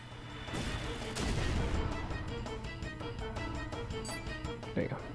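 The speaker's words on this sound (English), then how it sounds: "I guess I'll have to use Magma Bomb +2" The Magma Bomb +2 attack in Chrono Cross bursts out as a heavy explosive boom, followed by a rapid run of crackling blasts and impacts that fade toward a final pop.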